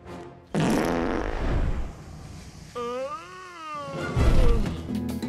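Cartoon fart sound effect from an Illumination animated film, a loud blast amid a busy comic soundtrack with a wobbling, warbling tone in the middle, closing on another burst.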